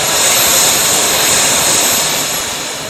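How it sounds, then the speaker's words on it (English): A model aircraft gas turbine engine throttles up, a loud, steady high-pitched jet whine and roar that holds for the full three seconds before easing back slightly near the end. "when Steve throttles up the aircraft, a lighting setup at the back gives the visual impact of an afterburner"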